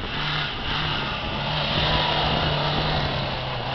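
An off-road vehicle's engine drones and revs steadily while it climbs a slope, a loud, continuous mid-pitched roar with no break.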